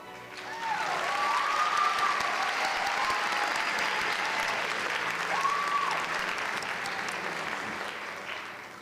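An audience applauds the 2026 Teachers of the Year at a Canyons School District ceremony, a full, even wave of clapping that swells after a second, holds steady, then tapers off.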